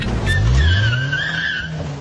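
Toyota Supra skidding through a turn taken too fast, tires squealing loudly for about a second and a half over engine rumble, close and sharp.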